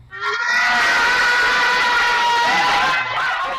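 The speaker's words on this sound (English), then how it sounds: "Lovely big cheer" A primary school class of children at St Scholastica School in Hackney bursts into a loud, sustained cheer, high-pitched shrieks and yells close up, rising suddenly and holding before easing off.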